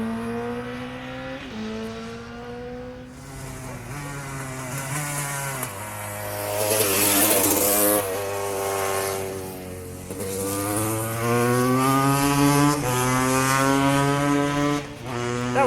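BMW S1000RR motorcycle racing on a road course, its engine screaming up through the gears along a long straight, loud and close with rising pitch sweeps and brief drops at each shift.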